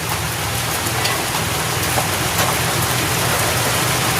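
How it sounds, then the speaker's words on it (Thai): Steady, heavy rain falls and patters on surfaces near a rural house, with a constant hiss and no voices. "ฝนตกแล้วพี่น้องเลยเนาะ"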